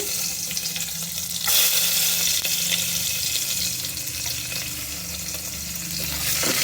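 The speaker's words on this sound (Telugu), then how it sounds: "ఇప్పుడు ఇదిగో ఇంత నూనె వేసాను. దీంట్లోనేమో ఎల్లుల్లిపాయలు వేస్తున్నానండి." Garlic sizzling and frying in hot oil in a pan for a Telugu-style curry, a steady crackling hiss with occasional stirring and scraping, close and loud with no talk.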